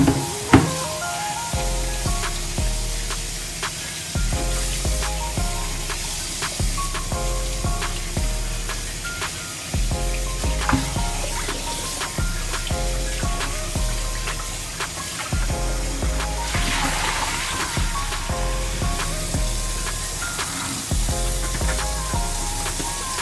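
Cleaned snapper fish rinsed under running tap water in a kitchen, a constant loud hissing splash with background music throughout and no talking.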